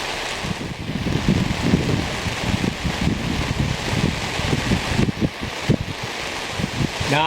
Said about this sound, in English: The wind's picking up, I'm being blown.